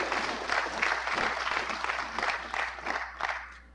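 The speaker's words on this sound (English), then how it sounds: "I want you to applaud yourself this morning" An audience at the opening of the National Toshaos Council's Conference claps in sustained applause, a dense crackle of many hands that swells and fades in waves at moderate distance.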